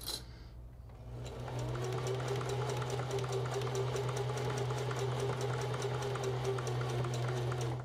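A sewing machine stitches a lycra strip over a fur edge on a handmade bodysuit, starting after a short pause and running as a steady, fast, fairly quiet mechanical whir with rapid needle ticking.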